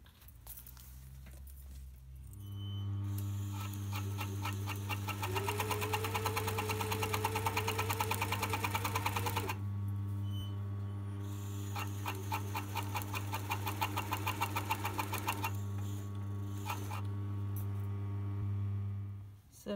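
A sewing machine runs steadily while stitching pin tucks, its motor a constant hum with rapid needle chatter, pausing briefly midway and then starting up again; close and continuous with no talking.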